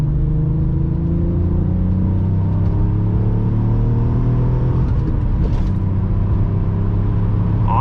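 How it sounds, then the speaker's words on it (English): Nissan Skyline R32 engine pulling at wide open throttle, a loud steady roar with rising harmonic tones as it accelerates, heard alone without talk. "It's when you're like wide open throttle, when you hear that roar."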